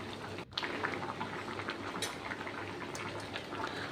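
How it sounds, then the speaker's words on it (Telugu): Rice boiling in a pot of water for meal maker pulao, a steady, close bubbling and simmering that fills the whole stretch with a brief dip near the start. "రైస్ ఉడుకుతుంది."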